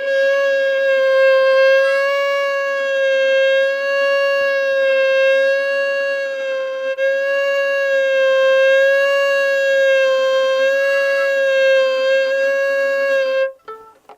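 A single bowed violin note sustained for about thirteen seconds with a slow, even vibrato wavering the pitch, played alone and ending abruptly.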